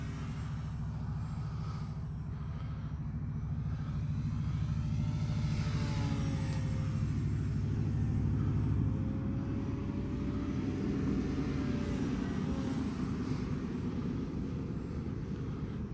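An RC P-51 Mustang model plane flies a loop at three-quarter throttle, its engine droning steadily with a gently rising and falling whine as it moves through the air, continuous over a low background rumble.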